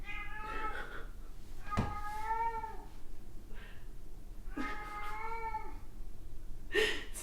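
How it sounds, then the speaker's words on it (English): A pet cat meows in drawn-out, wavering cries, two long caterwauling calls with a sharp click between and a brief higher yowl at the end, close and fairly loud against quiet room noise. "that's what my cat sounds like when she's getting high"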